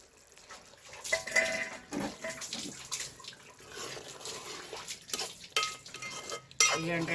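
A spoon stirs mutton and drumstick curry in a metal pot just after coriander goes in, scraping and clinking close up in uneven strokes, with a faint sizzle underneath.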